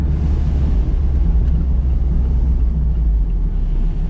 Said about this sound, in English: I actually really do like the exhaust tone in this thing.